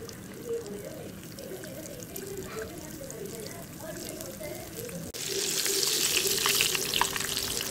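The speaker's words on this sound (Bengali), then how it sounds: "তারপর তেল গরম করে তেলের মধ্যে একটা একটা করে এগুলোকে ছেড়ে দিলাম।" Coated chicken wings deep-frying in hot oil, a steady crackling sizzle that grows louder and brighter partway through as more pieces go in, close and continuous.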